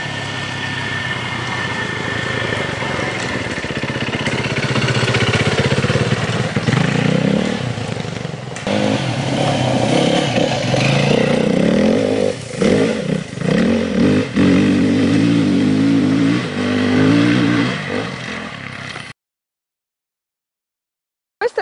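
An enduro motorcycle engine revs and idles close by, loud rising and falling throttle blips with rough clattering tones for about twenty seconds, then cuts to silence.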